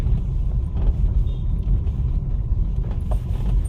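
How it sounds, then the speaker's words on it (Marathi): A steady low engine rumble of heavy truck traffic going past on the Phonda Ghat mountain road, loud and continuous, with no voices. "आता ट्रक येतात ते"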